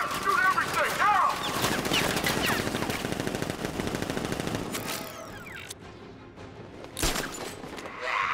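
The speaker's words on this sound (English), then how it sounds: "Open fire! Shoot everything!" Rapid automatic gunfire in Batman Arkham Knight, a dense loud fusillade of bursts with explosions and game effects layered over it, a sharp blast near the end, and shouted voices mixed in.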